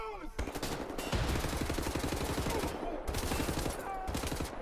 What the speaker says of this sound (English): I'm shooting up that pole real good